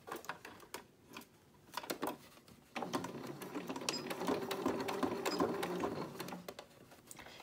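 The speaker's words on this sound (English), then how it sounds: "Now we're going to stitch around our piece of bias tape." A sewing machine stitches around bias tape on a homemade face mask, short bursts of rapid mechanical clatter that become one longer continuous run, close and moderately quiet.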